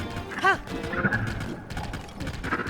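A horse whinnies once, loud and close, in Zelda: Tears of the Kingdom, with a rising-and-falling call standing out over game music and ambient noise.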